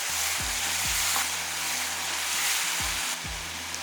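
Chopped garlic frying in hot oil for a garlic chutney gives a steady bright sizzle, with a few soft low knocks from stirring scattered through it and no voices.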